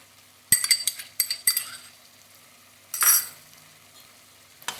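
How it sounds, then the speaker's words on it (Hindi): Mutton being fried with ginger-garlic paste for aloo gosht shorba, heard as sparse metal spoon clinks and scrapes against the pan, a few sharp knocks and a brief sizzling stir burst over a quiet background. "अच्छे तरीके से हम इसके साथ ही अदरक लहसुन के साथ इसकी भुनाई कर लेंगे।"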